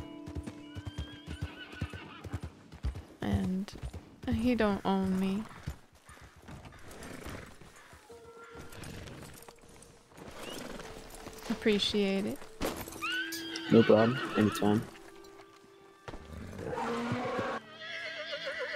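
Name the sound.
horse hooves clip-clopping and neighing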